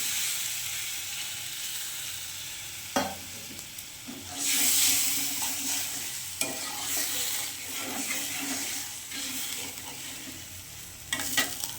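Water poured into sizzling spice masala in a frying pan, giving a loud burst of hiss and steam around the middle over steady frying crackle, with spoon scrapes and clanks now and then.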